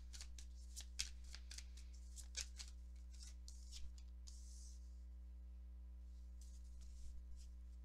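Tarot cards shuffled and drawn in soft, crisp riffles and slides, a run of close, quiet flicks over a steady low hum, with no voices.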